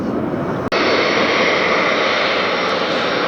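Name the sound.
jet airliner engines at Detroit Metro airport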